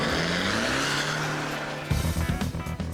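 The one-off Ford Rally Transit van races past with a revving engine note climbing, then gear changes and rough, gravelly bursts of throttle, loud and close.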